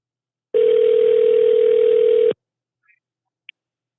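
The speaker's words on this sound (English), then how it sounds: "Let's give her Kathy a call" A single steady telephone ring tone hums for about two seconds, close and clear, then cuts off, followed by a couple of tiny electronic blips.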